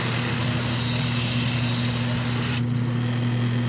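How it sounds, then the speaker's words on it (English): A sander fitted with a mop wheel and 120 grit spins against wooden trim to strip softened varnish, a loud constant motor drone with a strong low hum and a brighter hiss that suddenly thins near the end. "I don't have any cover on this sander here, so it throws sawdust everywhere"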